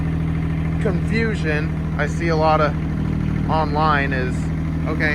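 Diesel engine of a Kubota AGT QK 18K-C mini excavator, running with a steady, even drone throughout while someone talks over it close by.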